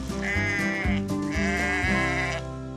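Several sheep bleat in quick succession, loud and close, their wavering cries overlapping with short pauses between.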